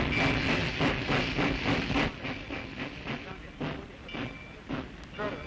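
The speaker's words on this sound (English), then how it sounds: "Jammed train loads." Loaded railroad train cars roll along a track, giving a steady rumbling clatter with a rhythmic series of wheel clicks and hissing noise, moderately loud and continuous.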